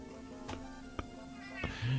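A cat meows a few times in short, separate calls over a low steady background hum, ending with a louder, rougher sound.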